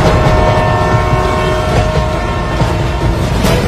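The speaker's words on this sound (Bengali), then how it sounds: "বালেশ্বরের কাছে ট্রেনটা চলে এসেছে" An express train runs steadily along the tracks, a loud continuous rumble with rattling and a faint tonal whine throughout.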